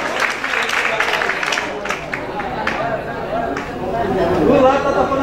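Audience applause at the Miss Original Salvador 2021 pageant, with crowd clapping and chatter building toward the end while a voice speaks over it.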